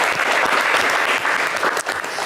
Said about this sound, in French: on vous applaudit quand même très